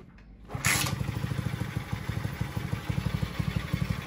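A motorcycle is kick-started: a quiet moment, a sharp clatter of the kick, then the engine catches and runs with a steady, close, pulsing idle.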